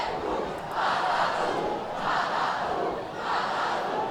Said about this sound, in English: As the crowd trying to get into it